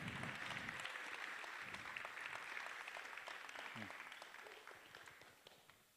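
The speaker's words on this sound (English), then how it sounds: "One more round of applause for Senator Holly Mitchell and Danny Glover." Sustained audience applause at an event on ending mass incarceration, thick crowd clapping fairly near and steady through most of the stretch, thinning toward the end, with a few low voices mixed in underneath.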